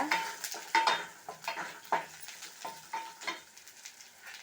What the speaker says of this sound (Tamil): பூண்டு, கடலைப்பருப்பு, சிறுபருப்பு எல்லாத்தையும் போட்டு நல்லா பொன்னிறமாக வறுத்துக்கோங்க